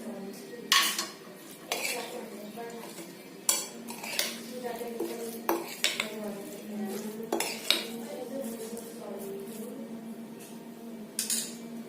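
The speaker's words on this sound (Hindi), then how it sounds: "और अच्छी तरह से मिक्स कर लेंगे।" A utensil scrapes and clinks against a bowl while sabudana khichdi ingredients are stirred, with irregular knocks and sharp taps repeating close by.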